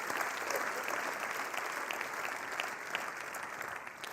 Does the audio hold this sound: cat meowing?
no